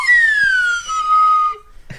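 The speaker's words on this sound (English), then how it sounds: "if you didn't think we were going to use those slide whistles" A slide whistle plays a single long note that glides slowly downward for about a second and a half, loud and close, then cuts off, followed by a faint click.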